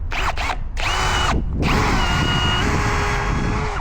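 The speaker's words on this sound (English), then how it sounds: "Pre-drill a little bit, and that'll help the screw stay on the correct path." A power drill whines at high speed close by, pre-drilling steel for a fence, briefly stopping and restarting, its pitch dipping as the bit bites into the metal.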